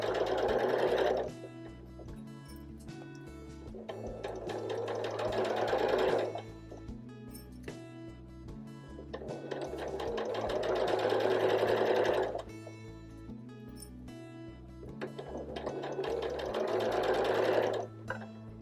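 A sewing machine stitches steadily around a tight curve, running in bursts of fast mechanical whirring that pause and restart every few seconds as the fabric is guided under the needle, close and clear with no talk.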